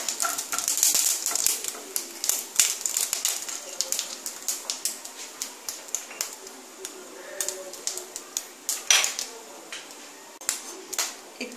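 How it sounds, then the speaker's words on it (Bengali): Dried red chili frying in oil in a pan makes soft, irregular crackles and ticks under quiet kitchen sounds, close and fairly faint. "একটা শুকনো লঙ্কা দিলাম, ভালো করে একটু ভেজে নেব।"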